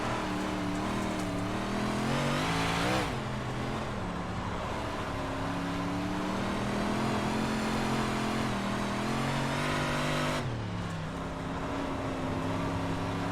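Dirt modified race cars roaring in iRacing, a steady loud engine drone with rising and falling pitch as the cars power through corners, continuous with no talking.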